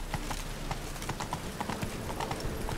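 Roach, a horse in The Witcher 3, galloping with rapid, close hoof clip-clops in a quick rolling rhythm, steady and fairly loud throughout.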